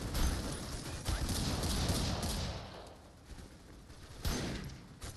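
Video game gunfire ending in a headshot, a dense burst of loud shots rattling for a few seconds, fading, then a final sharp crack near the end, no talk.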